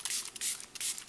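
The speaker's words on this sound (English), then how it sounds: "So I'm just gonna spray that all over my face." Several quick spritzes from a facial mist bottle of aloe, helichrysum and melissa hydrosols, close and soft with short gaps between bursts.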